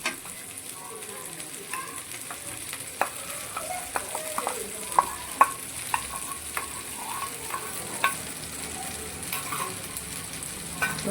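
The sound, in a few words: garlic added to sardine masala fry in pan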